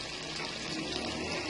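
A glass of water poured into tomato gravy in a pan makes a loud, continuous splashing pour, close and steady throughout, with no voices.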